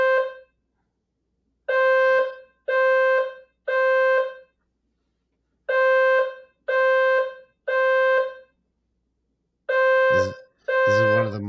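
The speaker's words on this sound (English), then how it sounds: "There's the alarm. It's just a couple more times." A fire alarm sounds in repeated loud, steady electronic beeps, each about a second long, arriving in two sets of four with short gaps between them, before voices and rustling take over at the end.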